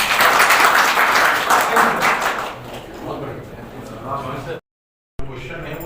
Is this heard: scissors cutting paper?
no